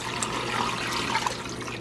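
Water poured into a pressure cooker over about four pounds of bones for a simple bone broth, a steady close splashing and gurgling stream lasting under two seconds with no talk.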